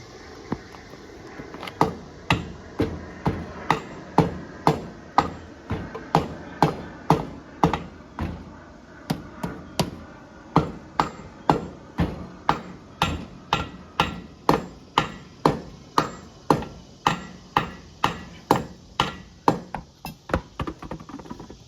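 Steady hammer blows on a metal riding mower part, dozens of sharp strikes in an even rhythm, close by with a faint background hum.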